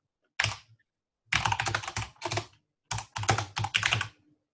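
Bursts of rapid typing on a computer keyboard, entering a folder name, with short pauses between clusters of crisp, close key clicks and no other sound.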